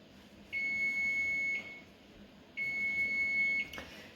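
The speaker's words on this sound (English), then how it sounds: "Okay, timer's about to go off." An oven timer sounds twice in steady, high electronic beeps, each lasting about a second, clear and fairly close in a quiet kitchen.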